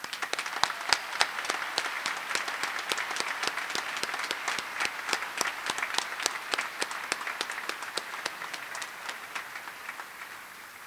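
Graduation ceremony audience applauding 223 accounting graduates, a long steady stretch of crisp, dense clapping at moderate distance in a large hall.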